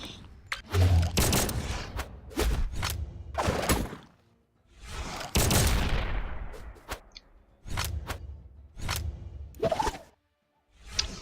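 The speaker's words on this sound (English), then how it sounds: "they will just run straight into your fucking gunshots" Cassidy's gunshots in the fighting video game Brawlhalla, sharp game-weapon blasts and swishes arriving in short bursts with brief gaps, crisp and close, ending in near silence.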